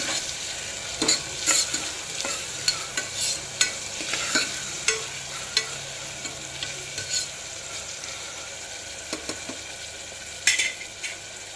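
Onions and green chillies fry in a pan with a steady low sizzle, punctuated by frequent sharp scrapes and clinks of a spoon stirring against the metal.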